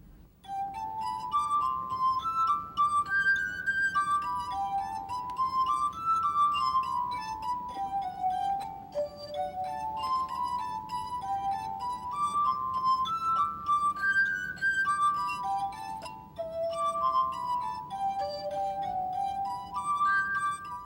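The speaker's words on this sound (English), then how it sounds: "I play the glass harp" Glass harp of 60 brandy snifters playing Bach's Jesu, Joy of Man's Desiring, pure sustained ringing tones in flowing triplet lines with a soft hum beneath, clear and close, no talking.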